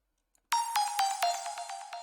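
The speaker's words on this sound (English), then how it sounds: "And of course you have the bell." A bell sample in an electronic dance track rings out in a quick run of about seven bright, metallic strikes with slightly falling pitch, each decaying into the next, close and clean.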